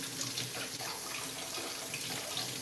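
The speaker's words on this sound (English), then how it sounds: "I'm gonna rinse this again." Tap water runs steadily over a jumbo onion being rinsed in a sink, a continuous close splashing hiss with no talking.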